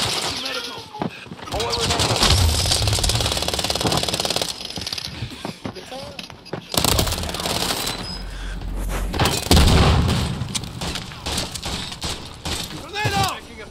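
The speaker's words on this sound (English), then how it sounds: "A random fucking drill charge." A drill charge drills during a Call of Duty MW3 match, a harsh rapid rattling amid dense bursts of gunfire and booms that run loud and nearly continuous.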